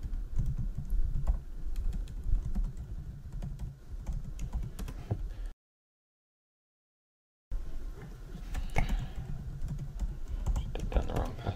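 Someone types a password on a computer keyboard to log in, with quick, irregular clicks heard close by. A short gap of silence breaks the typing before it resumes.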